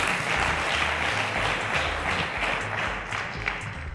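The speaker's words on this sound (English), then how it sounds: "A round of applause to Mashud" Steady studio applause greets a contestant on the Cowbellpedia quiz show, a full, even round of clapping carried over a throbbing low music track for the whole stretch.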